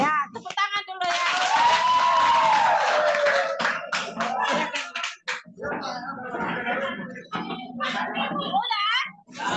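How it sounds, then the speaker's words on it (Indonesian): Classroom applause as pupils clap their hands together, a dense, steady burst of claps that swells and then thins into scattered claps, with children's voices and a teacher talking over and after it. "Ya, tepuk tangan dulu ya."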